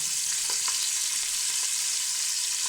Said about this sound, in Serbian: Sad ćemo da ubacimo odmah i kobasičice.